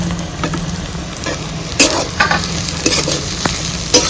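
Onion, capsicum and green chillies frying in oil in a pan, a steady close sizzle broken by several sharp scraping clicks of a stirring spoon.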